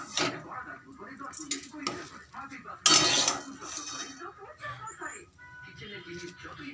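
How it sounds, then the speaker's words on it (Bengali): Clinks and scrapes of a spoon against a pot as rice is stirred into boiling milk on a gas stove, with a brief louder splash and clatter midway under quiet background speech. "এবার দুধের মধ্যে চালটাকে মিশাবো।"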